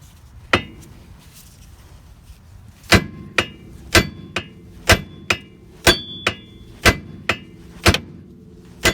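A two-pound mini sledgehammer strikes the drag link on a 1985 Mercedes 300D to knock it loose, about a dozen sharp metallic clangs in a steady rhythm, close and loud, with a lone early hit before the series.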